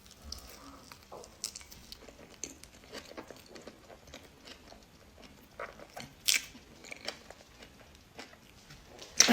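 Someone bites into a mango pancake roll and chews it close up, with quiet soft crunches and squishy mouth sounds and a few sharper bites toward the end.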